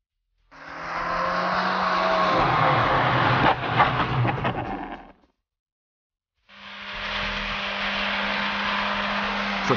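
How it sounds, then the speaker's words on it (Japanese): Honda car braking hard until its tires lock, producing a loud, sustained tire squeal and skid roar for several seconds. A short gap follows, then a second long, steady squeal with a tonal whine. No voices are heard. "フルブレーキングでフロントタイヤがロックしてしまった場合にはハンドルは全く効かない状態となり"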